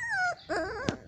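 Puppies one to two months old whimper and yip in a short close sequence of high, sliding whines followed by a sharp little yip, heard alone without talk.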